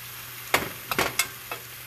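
Turkey hash cooks in a pan as a spoon stirs it, giving a few short scraping, sizzling bursts over a soft background hiss, fairly close and quiet, with no talking.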